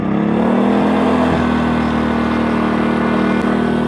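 A GENKINS inverter generator engine runs close by at a steady, loud drone with a firm low hum, continuous and unbroken with no talk.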